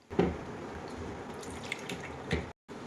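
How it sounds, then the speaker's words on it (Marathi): Fresh raw mangoes rinsed under a running kitchen tap, a steady close wash of water with a few louder splashes and a brief cut-out near the end, no talking. "आता हे आंबे धुवून घेते कारण हे आंब्यांना चिक असतो"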